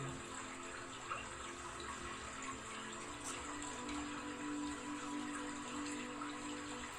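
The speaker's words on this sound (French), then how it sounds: "L'eau du lac, l'eau de guérison de la cascade" Lake waterfall flowing steadily, a constant close wash of running water with a faint underlying hum and no voices.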